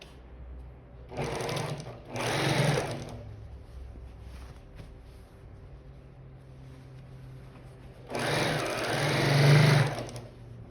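A sewing machine stitches seams on a recycled denim basket in two short bursts and then one longer run, whirring loud and close with quiet pauses between.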